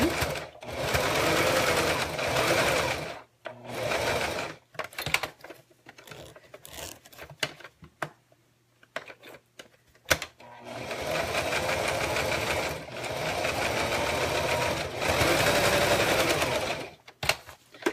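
A sewing machine threaded with pink thread stitches a zipper in place, running in two long steady whirring bursts with a quieter gap of short stops, handling noises and shuffles between them.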